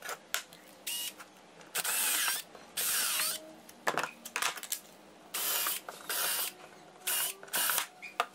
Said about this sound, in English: I ended up just drilling a big hole